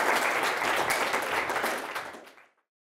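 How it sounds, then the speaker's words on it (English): An audience applauds steadily at full strength, then the clapping thins out and fades away over the last second. "Another big round of applause for that, please."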